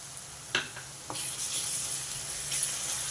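Ginger garlic paste fries in a pan with onions for a chicken gongura curry, a couple of light spoon clinks followed by a swelling, steady close sizzle.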